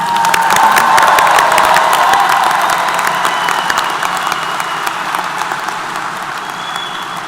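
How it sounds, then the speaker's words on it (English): A large commencement crowd applauds new alumni at a Texas A&M University-Corpus Christi ceremony; loud sustained clapping with some cheering and whoops that slowly fades over several seconds. "let's give these new alumni a round of applause"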